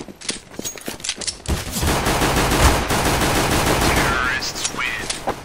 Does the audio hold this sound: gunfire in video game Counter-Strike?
yes